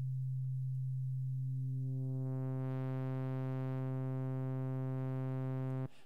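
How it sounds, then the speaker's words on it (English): A sustained sawtooth-style tone from an NI FM8 synthesizer patch whose operator feeds back into itself, holding one steady pitch and growing brighter and buzzier as more harmonics come in, then stopping abruptly. "it gives us the opportunity to feed back into itself. So it takes the output of the F oscillator and it feeds it back into itself"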